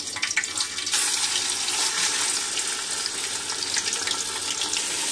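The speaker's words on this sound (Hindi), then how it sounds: "अब मैं इसके अंदर जिंजर गार्लिक पेस्ट ऐड कर दूंगी।" Ginger garlic paste sizzling in hot oil with whole cloves and small cardamom, a steady loud hiss and crackle with a sharper burst near the start, no talking.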